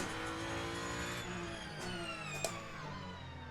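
An endurance race car in the racing game Le Mans Ultimate drones at steady engine pitch with shifting harmonics and a brief sharp transient, heard without talking at moderate level.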